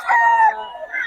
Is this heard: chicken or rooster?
yes